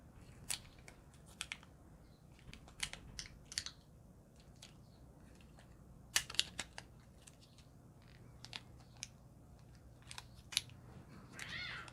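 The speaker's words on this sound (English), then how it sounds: "I'll peel this off" Protective film peeled off Amazon Fire TV Stick packaging, heard as quiet crackles and sharp plastic clicks scattered irregularly over a soft, close background.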